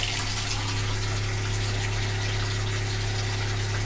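Water running from a temporarily hooked-up RV shower wand after a bathtub and shower faucet replacement: a loud, steady hiss of spray over a constant low pump-like hum, with no pauses.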